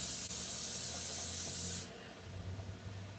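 A can of cooking spray lets out a long, steady hiss close by in a home kitchen, then a softer rush of noise follows as the spray stops.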